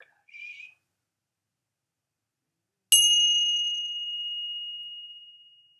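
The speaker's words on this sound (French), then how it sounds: "ouvrir bien grand les oreilles pour entendre le son de ma cloche." A mindfulness bell used in a children's breathing practice strikes once after a brief faint sound, ringing with a clear pure tone that lingers and slowly fades to silence over a few seconds.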